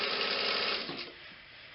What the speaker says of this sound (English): So I'm going to sew that right now.